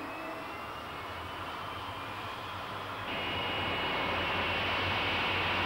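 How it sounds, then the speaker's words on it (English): Jet dragster cars rolling up to the staging lights at Santa Pod drag strip in 1986, a steady loud whining jet roar that swells noticeably partway through as the engines build, heard from the crowded spectator area. "the jet cars moved forward and up to the staging lights"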